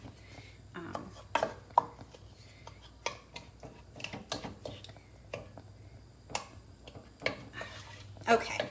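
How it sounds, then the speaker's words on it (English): A knife chops berries for a pie on a cutting board in a kitchen, with irregular sharp taps scattered over several seconds. Quiet background noise and occasional clatter accompany the chopping. "As you're chopping your berries"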